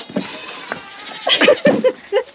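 A buck goat in a farm pen bleats in a few short, wavering cries that come close and fairly loud, following some quieter rustling and shuffling.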